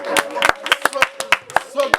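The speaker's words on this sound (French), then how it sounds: "On applaudit pour Mamie Joe." Several people clap in a church youth Bible study, a short burst of distinct, fairly close hand claps in an uneven rhythm, with voices heard alongside.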